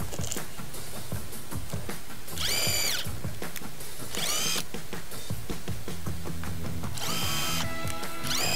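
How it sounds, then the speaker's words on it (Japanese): Power drill boring holes in a homemade plastic flap guard for a grass trimmer, with several short bursts of close, loud whirring spaced apart between clicks and handling noises. "穴を開けて、"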